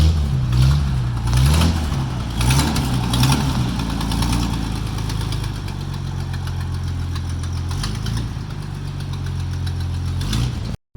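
A 1948 Plymouth Special Deluxe engine turns over and settles into a steady, loud idle, a low rhythmic rumble that runs on for about ten seconds before cutting off abruptly.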